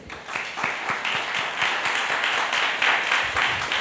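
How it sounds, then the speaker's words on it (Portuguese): A church congregation claps and applauds during a doctrine worship service, a dense, steady patter of many hands filling the room for several seconds with no voices over it. "Aplauda o rei."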